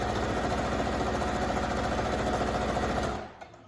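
A sewing machine hums in a fast, even stitching run while sewing a child's fabric face mask, loud and close, then stops abruptly after about three seconds, leaving a few faint clicks.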